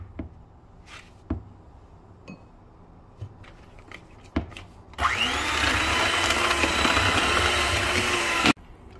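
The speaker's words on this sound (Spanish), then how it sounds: "con la espátula levantamos todo y le volvemos a dar otra pasada con la batidora." An electric hand mixer creams butter with sugar in a bowl, starting after a few light scrapes and taps, then running loud and steady for about four seconds before stopping abruptly.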